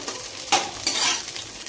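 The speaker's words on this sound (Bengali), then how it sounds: "এখানে সমস্ত ড্রাই ফ্রুটসগুলোকে প্রথমে ভেজে নিচ্ছি" Dry fruits frying in a pan as a first step for poha, giving a steady close sizzle with a couple of sharper stirring bursts and no voices.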